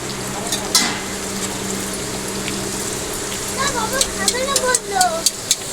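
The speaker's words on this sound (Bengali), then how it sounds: "লুচি ভাজা শুরু হয়ে গেছে" Luchi deep frying in hot oil at a family home makes a continuous bubbling sizzle, growing busier and more crackly toward the end, while voices murmur in the background.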